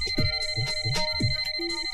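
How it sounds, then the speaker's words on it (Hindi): A phone rings indoors with a steady electronic tone that keeps repeating, while people talk over it in short bursts. "मदन प्लीज जाके फोन देखना प्लीज।"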